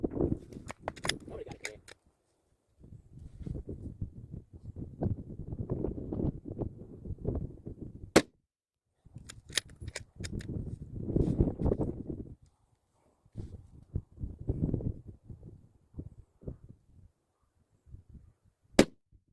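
Sharp 6mm ARC rifle shots ring out on a windy range at targets. There are a few isolated cracks, one loud near the middle and one at the end, amid heavy wind rumble on the microphone and intermittent talk.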